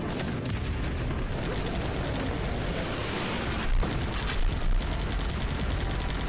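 Bombardier units fire in the Guns Up strategy game, with dense, continuous rattling gunfire and blasts that swell into a few louder bursts near the end.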